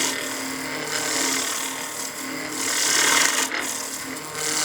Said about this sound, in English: making a pull cut, leading with the bevel first like this